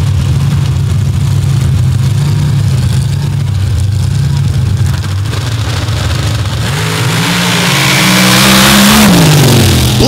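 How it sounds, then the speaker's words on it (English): A drag racing car at a wide-open drag meet sits in a loud, rumbling idle, then its engine roars and climbs sharply in pitch as it launches and accelerates hard down the track. "Blistering the track is Orogi, a 2-3-2 with a 6."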